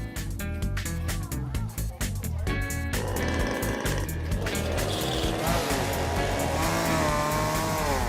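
A chainsaw roars loudly and continuously, its engine pitch rising and wavering as it revs, close and steady throughout.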